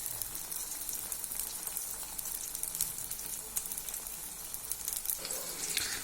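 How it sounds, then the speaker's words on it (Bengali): Cabbage fritters fry in oil, giving a continuous, moderately quiet crackling sizzle that holds steady throughout, with occasional sharper pops and no speech. "আমরা বড়াগুলো ভেজে নিচ্ছি।"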